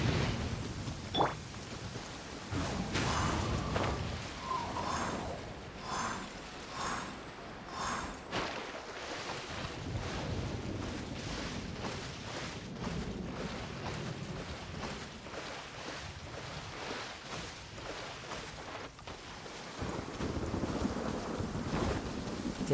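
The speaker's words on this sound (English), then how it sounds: "Taking a stroll in the middle of a downpour certainly rouses the spirit" Heavy rain pours down in a video game as a character walks through a downpour, a steady broadband wash with intermittent gusty bursts, rumbling low end and brief sharper splashes, continuous and loud throughout.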